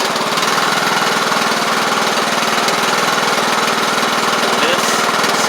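A lawn mower engine powered by a UPLUS 250CCA AGM lawn and garden battery cranks over and runs with a steady, loud, close mechanical drone that holds through the whole stretch without pause.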